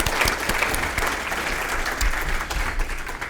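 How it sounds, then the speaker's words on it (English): A reunion crowd of former TV station employees claps steadily for a long-married couple, a dense, sustained round of applause at full volume without a break, no speech on top. "please accept our applause for your life together"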